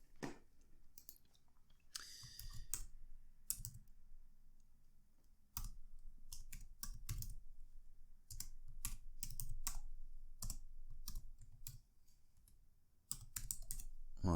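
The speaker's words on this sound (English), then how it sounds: "let's type that in" Fast typing on a computer keyboard up close, with irregular bursts of crisp key clicks and short pauses, steady throughout with no speech.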